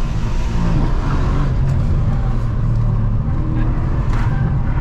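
BMW M3 engine pulling hard under acceleration on a drive, a loud, steady close-up roar with road and wind noise throughout.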